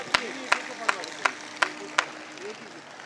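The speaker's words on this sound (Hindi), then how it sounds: "एक बार आगे से पीछे तक तालियां बजाकर मुझे मन दीजिए।" Audience at a Hindi poetry gathering clapping in unison: six sharp, evenly spaced claps roughly a third of a second apart, with a voice continuing faintly beneath.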